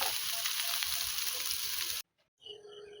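Fried rice ingredients such as chicken sizzling in a pan on the stove, a loud broad frying hiss for about two seconds that cuts off abruptly, followed by quieter kitchen sounds.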